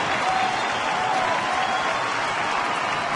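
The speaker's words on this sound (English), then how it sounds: "The crowd on its feet." A baseball stadium crowd at a Colorado Rockies–Los Angeles Dodgers game roars on its feet during a three-and-one count, a loud, dense, unbroken wall of cheering and clapping.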